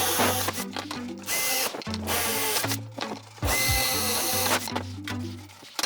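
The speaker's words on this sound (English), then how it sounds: "This contraption I'm using right now is just a jigsaw that I stuck under my table." A jigsaw mounted under a workbench table cuts in loud buzzing bursts, starting and stopping several times with brief pauses between runs, with no voices.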